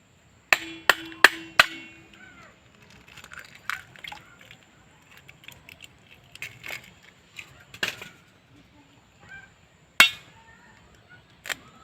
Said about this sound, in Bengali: এরপর আমি বাটির মধ্যে ডিম দুটো ফাটিয়ে নেব।